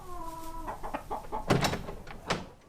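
Farm chickens kept outdoors alongside pigs cluck and squawk around their feed at close range, a quick burst of overlapping clucks and sharp calls following a brief tonal note at the start.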